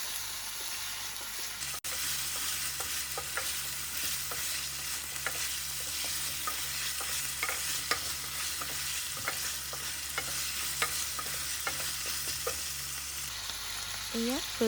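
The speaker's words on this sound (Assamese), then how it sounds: "দি আকৌ ভালদৰে লৰাই লৈছোঁ।" Potatoes and onions are stirred in a frying pan, with a steady sizzle underneath and repeated scraping strokes of the spoon close by, continuous for most of the stretch.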